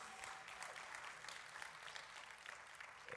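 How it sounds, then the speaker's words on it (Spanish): Church congregation applauding for the Lord in a Spanish-language service, a steady dense wash of clapping at moderate loudness throughout, with no voices standing out. "Dele un fuerte aplauso al Señor"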